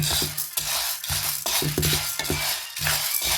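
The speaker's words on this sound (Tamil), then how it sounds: "பச்சை மணம் போகிறதுக்காக தான் இப்போ வறுத்து கொண்டு இருக்கோம்" Green gram (mung beans) dry roasting in a pan, with a loud, busy rattle of beans and a utensil stirring and scraping in steady repeated strokes, close up and without speech.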